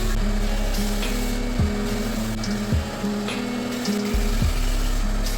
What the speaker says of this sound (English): the fastest and most intelligent way to remove all this gunk and make it look professional was to take it over to the bench sander